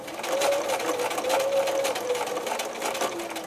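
A sewing machine stitches a small doll mitten slowly around its curved corners. The motor whirs steadily and close throughout, and its pitch rises and dips slightly as the speed changes.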